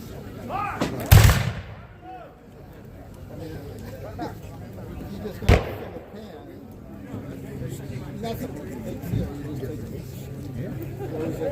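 Muskets fire at an outdoor historical skirmish reenactment; two sharp, loud reports ring out several seconds apart, each trailing off, over a low murmur of spectators talking.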